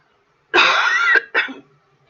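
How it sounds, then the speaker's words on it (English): A person coughs: one long, harsh, rasping cough followed by a shorter second cough, close and clear against silence. "Sorry about the coughing."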